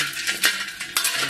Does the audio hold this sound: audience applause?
no